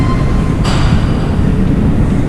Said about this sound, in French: ça c'est l'intérieur du métro comme ça